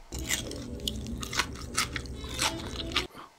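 Close, crunchy chewing of crispy-skinned roast pork, repeated bites with crackling bursts over a low, steady background.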